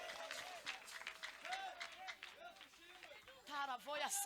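A congregation at an ADEPR church prayer evening claps, with ululating and cheering voices rising through the rhythmic clapping, lively and fairly close.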